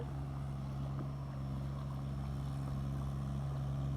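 An L40 tractor engine run at full throttle while plowing a flooded rice field: a steady, low droning hum with a strong constant tone, continuous and fairly distant, with wind noise and no speech.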